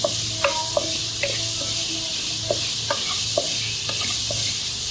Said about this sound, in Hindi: तीन से 4 मिनट इसको फ्राई करेंगे ताकि ये नरम हो जाए